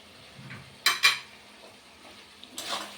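Spinach curry with ghee is stirred in a pan, a quiet background broken by two sharp metallic clinks of a spoon against the pan and a brief scraping rustle at the end.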